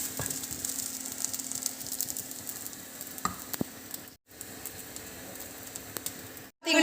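Grated coconut and rava roasting in a pan, a soft steady sizzle with occasional scraping stirs, faint and close, briefly cutting out twice.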